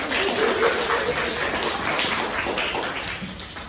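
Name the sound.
applause for a classmate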